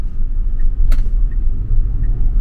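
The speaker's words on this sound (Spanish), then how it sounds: "Y vean cómo acelera, o sea, vean cómo va subiendo la velocidad de un momento a otro." A Tesla Model Y accelerating under its self-driving system, heard from inside the cabin as a steady low road rumble that swells and eases, with one short sharp click and no speech.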